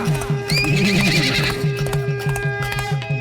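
A horse whinnies in a rising, shaky neigh while hooves clip-clop in a steady, even trot, a close and loud sound effect set into a Tamil folk song.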